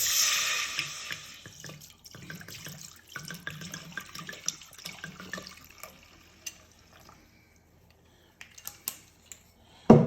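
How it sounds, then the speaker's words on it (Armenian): Red wine poured into a pot, a close pouring gurgle for the first few seconds that thins into scattered drips and small clinks, then near silence ending in a sharp knock. "գինին բացում եք, կարմիր գինին։ Լցնում եք կաստրուլկայի մեջ"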